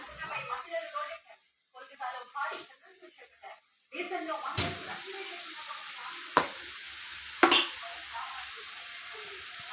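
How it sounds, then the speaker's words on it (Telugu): Onions frying in a pan on a home stove, with a broad sizzle that comes through once the talking in the first part stops. A few sharp utensil clanks break through the sizzle later. "ఉల్లిపాయలు ఫ్రై అవుతున్నాయి"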